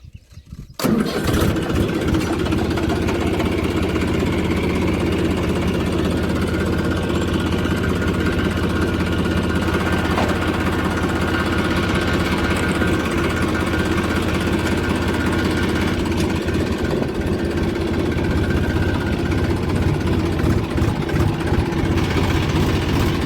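A tractor that has just pulled a rotavator engine cranks and catches, then settles into a steady, close, rumbling idle that runs without a break for over twenty seconds.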